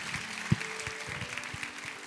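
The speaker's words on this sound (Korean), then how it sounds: "우리 하나님께 감사와 영광의 박수 올려드리겠습니다." A church congregation claps during a Sunday worship service, a soft, even patter of applause with one brief louder knock partway through.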